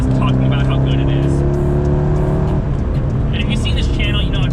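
A C5 Corvette's V8 engine roars loudly and continuously under hard acceleration, the revs climbing steadily, with tire and road noise mixed in the cabin.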